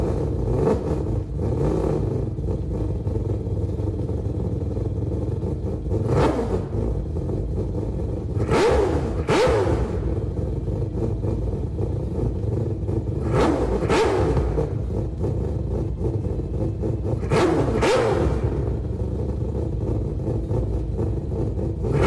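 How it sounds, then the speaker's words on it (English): A 1000 HP four-rotor Mazda RX-7 FD from Gran Turismo 7 drones with a loud, steady rotary engine note, broken by several sharp revving blips at regular intervals. "please enjoy the startup of the 4-Rotor"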